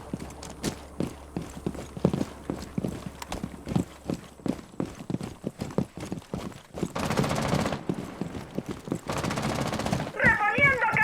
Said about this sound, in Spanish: ¿Quién ya está disparando?